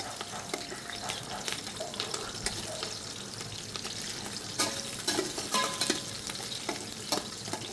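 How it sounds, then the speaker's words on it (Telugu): Whole spices and green chilies frying in hot ghee for chicken liver biryani, a continuous moderate sizzle broken by repeated scraping stirs and crackles. "నెయ్యి బాగా హీట్ ఎక్కిన తర్వాత మన మసాలా సామాన్లు పచ్చిమిర్చి వేసి కొంచెం ఫ్రై చేద్దాం."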